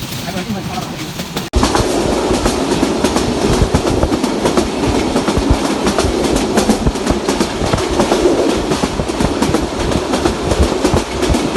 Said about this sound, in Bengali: আমরা আজকে বুড়িমারি এক্সপ্রেস দিয়ে আসলাম।